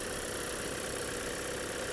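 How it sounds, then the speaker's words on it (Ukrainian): The engine of a 2020 Skoda Superb Laurin & Klement 4x4 idles in a steady, even, muffled hum that stays level and fairly quiet throughout, with no other sounds. "двигун працює ідеально"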